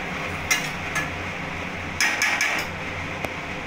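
A metal lid is set onto a pot of ridge gourd and potatoes cooking with poppy seed, giving a few sharp clinks and clatters, with one cluster of knocks in the middle and a last light tap.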